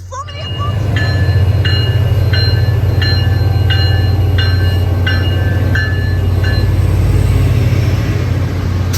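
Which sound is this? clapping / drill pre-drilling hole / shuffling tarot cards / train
train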